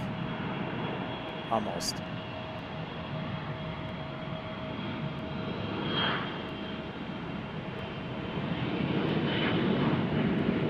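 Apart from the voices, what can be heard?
airplane departing at Boise Gowen Field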